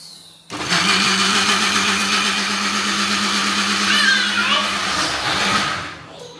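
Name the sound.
mixer grinder running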